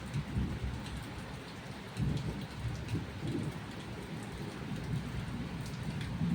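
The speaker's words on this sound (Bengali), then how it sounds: "একদমই ভাল লাগছে না বৃষ্টি।" Steady, dense rain falls throughout on a dark morning, with a low rumbling undertone that may be distant thunder; the sound is even, moderately loud and continuous, with no voices.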